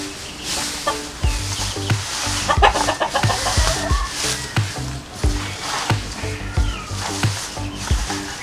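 Free-roaming native chickens on a Philippine property cluck and crow repeatedly at close range, several birds layered over steady low background noise, with no one speaking.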